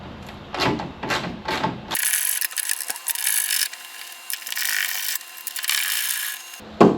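Bolts come off the frunk lid of a Can-Am Spyder RT with a close, harsh buzz from a power driver, running steadily for several seconds between a few light clicks and knocks.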